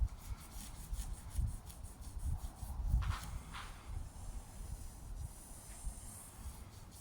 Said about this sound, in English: I'll rub over it, but not the paint